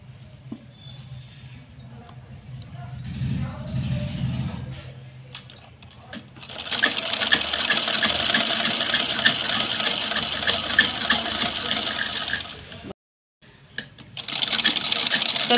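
A sewing machine stitches a plain pajama waistband, a steady close mechanical whir that starts after a spoken stretch, stops briefly, then resumes, with someone talking over parts of it.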